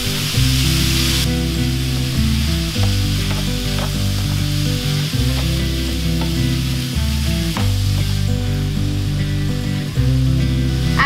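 Meat browns in a hot pan with onion and minced garlic, giving a steady, close sizzle that runs unbroken throughout, with soft stirring scrapes and a low, regular rhythmic pattern underneath.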